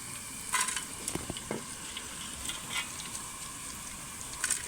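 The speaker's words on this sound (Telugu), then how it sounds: "ఇదిగోండి మంచిగా ఫ్రై అయిపోయినాయి" Bitter gourd pieces frying in a pan give a steady close sizzle, with a few clinks and scrapes as they are stirred and turned, and no voices.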